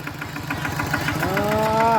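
A Thai farm tractor idles outdoors in hot weather while hauling water, giving a steady, close, rhythmic low chugging. A rising tonal whine joins near the end.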